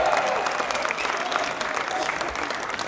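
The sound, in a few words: audience applauding and cheering award winners at banquet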